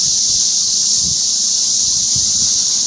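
Cicadas outdoors, a steady loud high-pitched buzzing drone that holds for the whole stretch, with faint low rustling of wind beneath and no talking.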